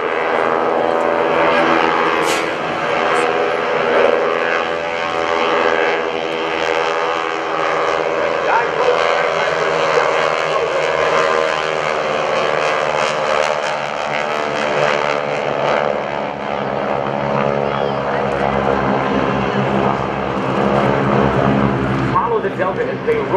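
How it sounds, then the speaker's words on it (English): World War II propeller aircraft flown by the GEICO Skytypers at an Air National Guard open house airshow in Rhode Island, a loud steady droning engine roar throughout with an announcer talking over it. "Flying these World War II aircraft requires an unusual set of skills."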